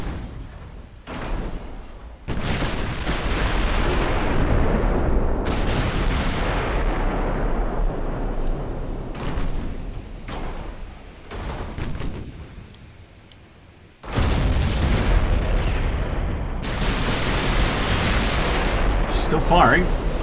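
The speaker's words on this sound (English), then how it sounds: "She's still firing." Warship main guns firing in the naval battle game Ultimate Admiral Dreadnoughts, a series of heavy booming salvos with rumbling decay, some shots overlapping, under a narrating voice.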